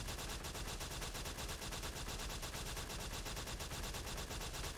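A spider venom rifle in the LifeAfter video game fires as a dense, unbroken stream of rapid crackling shots, loud and continuous for several seconds with no pauses.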